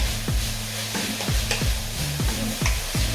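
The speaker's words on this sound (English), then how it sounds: "to make sure that our onions caramelize, and keep on stirring" Onions with a little sugar caramelizing in a hot pan for vegan Bolognese, a steady sizzle broken by rhythmic scraping strokes of a spoon about every half second, close and loud.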